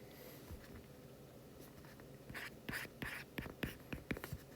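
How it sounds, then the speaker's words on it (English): Marker or chalk writing on a board during an economics review lecture, a series of short scratchy strokes, faint at first and then denser and louder in quick bursts, with no voices. "so I'm just going to write that up here"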